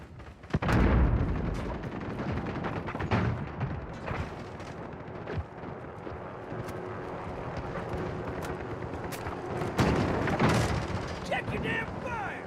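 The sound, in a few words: cruise missile strike explosions in the video game Modern Warfare (2019)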